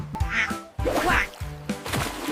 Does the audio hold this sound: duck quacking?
yes